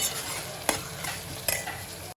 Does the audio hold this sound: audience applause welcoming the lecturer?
no